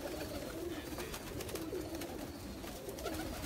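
Pigeons coo in low, repeated warbling calls at a breeder's loft, fairly faint and steady against a background hum, with no talk over them.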